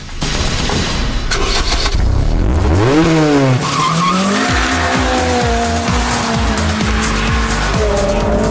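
Honda Civic Mugen RR driven hard on a race track: a loud, close VTEC engine revs up and drops with tire squeal, then climbs steadily through the gears in a rising, high-pitched wail.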